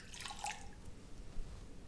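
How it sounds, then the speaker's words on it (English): Water trickles in a thin stream into an egg mixture with salt and pepper as a tartare sauce base is started, a brief soft pour with light splashing close by and no one speaking. "Now we're going to add some water,"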